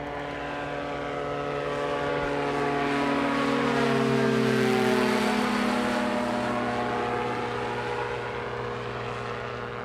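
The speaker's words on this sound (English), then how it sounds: "He is all in that Rotax, everything it's got." A Rotax-powered STOL aircraft flies at full power at a STOL competition, its steady propeller drone swelling as it passes close and then fading slightly, with a droning engine tone throughout.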